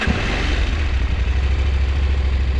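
A motorcycle engine rumbles close and heavy on a mountain road up toward the Cristo Redentor de los Andes, a steady, loud low-pitched drone with wind buffeting throughout.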